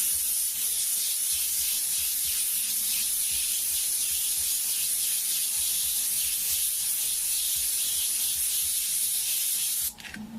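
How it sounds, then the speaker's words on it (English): Airbrush spraying red oxide paint over a stencil, a steady close hiss that runs unbroken for about ten seconds and cuts off abruptly at the end. "we're just going to spray right over top of that stencil"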